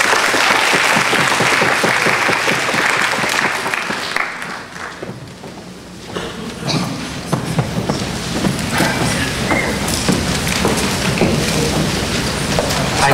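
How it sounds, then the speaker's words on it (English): Loud audience applause at a speech and debate night, many hands clapping steadily, dipping briefly in the middle before surging back to a full, sustained round. "Let's give a round of applause to our lady."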